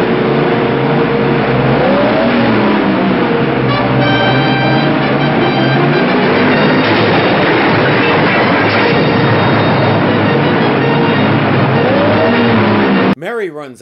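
An armored car pulls away in a radio drama, a loud engine drone rising in pitch as it drives off, under other layered sound effects, ending with an abrupt cut.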